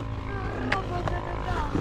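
A KTM motorcycle engine idling just after starting, a steady close rumble with a couple of brief revving blips.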